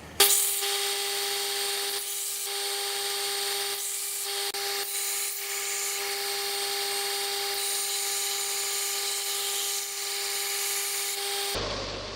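A knife tang and scales are sanded in a continuous steady grinding drone with a fixed tonal whine from the machine, running unbroken for about twelve seconds and then cutting off, with no talk.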